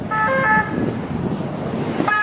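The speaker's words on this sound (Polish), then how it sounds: "Nie wiem, czy ich mogę nagrywać, a nie, to ambulans." An ambulance siren wails from a passing vehicle on a street in Marrakesh, Morocco, its tones rising briefly then fading under traffic rumble before returning at the end, fairly close.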